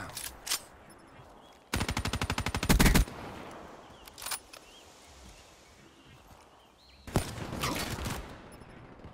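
Gunfire in a Black Ops 3 Gun Game match comes in sharp bursts: a rapid automatic volley, a few isolated shots and a final flurry, loud and close over quiet game ambience.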